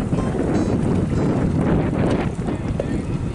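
Strong wind buffets the microphone on an estuary beach, a loud, continuous low rumble and roar throughout with no clear voices.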